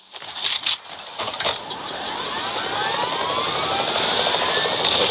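A helicopter in an online shooter game roars steadily and grows louder, with a sharp burst of crackling impacts and gunfire at the start. The rotor and engine noise then fills the rest of the moment, and no one talks.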